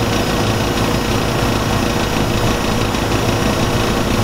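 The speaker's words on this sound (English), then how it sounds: "now we're going to check the condenser fan motor" HVAC condenser fan motor running, a loud, steady broadband whirring roar close up that holds constant without a break.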